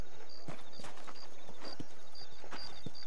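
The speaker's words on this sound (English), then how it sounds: "These are fine horses." Horses clip-clop in the video game Red Dead Redemption, crisp hoof knocks scattered at an irregular pace over a faint background with a recurring high chirping tone.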